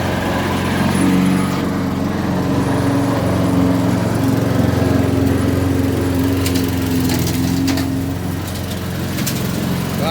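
A lawn mower mowing dirt drones loudly and steadily up close, its engine hum constant throughout with faint scraping and crackles over the top.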